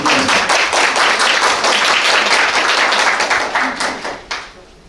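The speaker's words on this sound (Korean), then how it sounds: "박수 부탁드립니다" Applause from a forum audience at a regional sustainability-education event, dense and loud with many hands clapping steadily for about four seconds, then tapering off into a few scattered claps before fading.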